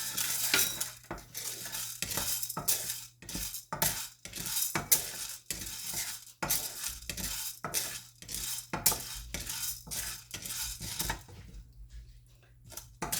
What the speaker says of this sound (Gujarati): તેમાં આપણે એક અડધો કપ ચણાની દાળ લીધી છે, તે શેકી દઈશું